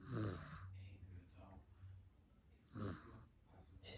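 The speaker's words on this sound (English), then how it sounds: "She's definitely snoring." Dog snoring, two loud rasping snores a few seconds apart with quieter breathing between, close and alone.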